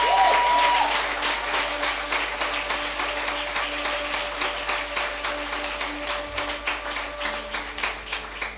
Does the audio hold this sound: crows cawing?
no